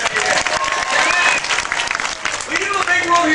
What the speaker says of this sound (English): Let's have a big round of applause for Matthew.